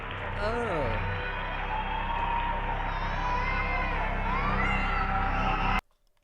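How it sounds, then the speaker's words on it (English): Crowd applause and cheering blend with shrill children's cries and whoops in a Poppy Playtime Chapter 3 horror game trailer, a loud sustained mix with rising wails over it, cut off abruptly near the end. "the sounds of audience applause mix with the horrifying cries of children"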